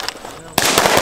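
A single sharp gunshot bursts out on an outdoor shooting range, loud and close, cutting through a brief stretch of quiet.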